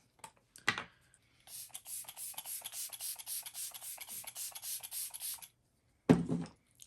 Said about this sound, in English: I'm going to go in and spray my face with the MAC Fix Plus Setting Spray